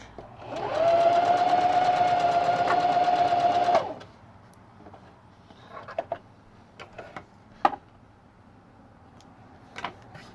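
A sewing machine stitches elastic onto a fabric mask in one close, steady whirring run of about three seconds, followed by soft handling clicks and taps.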